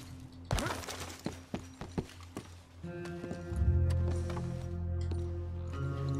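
Horse hooves clip-clop in Red Dead Redemption II, with a handful of quick, distinct hoof strikes up close. A low, steady ambient hum follows.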